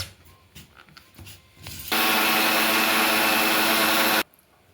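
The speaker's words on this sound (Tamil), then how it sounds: "இப்போ கொஞ்சம் கொஞ்சமாக மிக்சியில் சேர்த்து அரைச்சிக்கலாம்." A kitchen mixer grinder grinds pearl millet into coarse flour in one loud, harsh whirring burst of about two seconds, with quiet handling knocks before and after.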